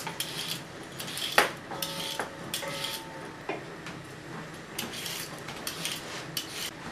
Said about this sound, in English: Then once you cut the ends off, then you need to peel them.